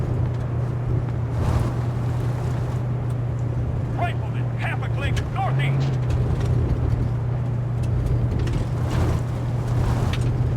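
A vehicle engine idles in the ArmA 3 video game, a constant low drone under radio-style voices and light crackles throughout.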